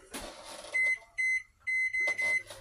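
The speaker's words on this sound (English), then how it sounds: "Let me set the timer because I don't want to like cook it and burn it by accident." A kitchen timer set while melting ingredients for clusters beeps in four clear electronic bursts, with brief pauses between them, standing out over quiet room noise.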